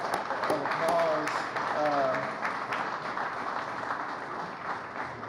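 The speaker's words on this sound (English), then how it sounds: "Can we give Martin and his team a round of applause?" An audience applauds Martin and his team at an event, with the clapping swelling and then settling while voices and cheering ring out over it.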